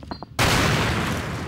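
A grenade blasts in a video game, a sudden loud broadband burst that rumbles on and decays slowly over a second, after a few faint quiet sounds.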